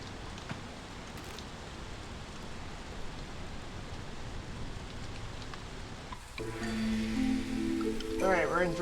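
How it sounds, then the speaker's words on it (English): Drizzle ambience in Against the Storm, a steady soft hiss of light rain falling continuously, with a brighter layer of game tones and chimes joining near the end. "Alright, we're in drizzle."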